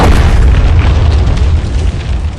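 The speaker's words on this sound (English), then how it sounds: "The younger man nods, and detonates bomb blows up the pillar" A bomb detonating and blowing up a stone pillar in the Mortal Kombat 1 video game, heard as a loud, sustained, deep rumbling blast that fills the whole clip and fades only slightly toward the end.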